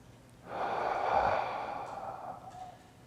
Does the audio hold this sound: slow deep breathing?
yes